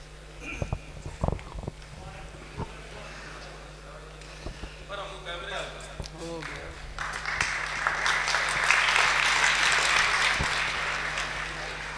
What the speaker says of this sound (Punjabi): ਤਾੜੀਆਂ ਦੀ ਗੂੰਜ ਹੈ